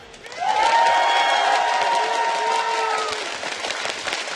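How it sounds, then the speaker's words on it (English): A large live crowd at the League of Legends World Championship 2012 cheers and applauds loudly, a sustained roar of clapping and shouting that swells quickly and holds steady throughout. "If you guys want to see CLG come out on top of this one, let's give them a cheer."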